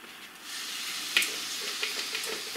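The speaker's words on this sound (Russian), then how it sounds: "Обжариваем в течение 2 минут." A soft, steady sizzle of pizza dough frying in an oiled pan, faint and continuous, with a few small crackles and pops.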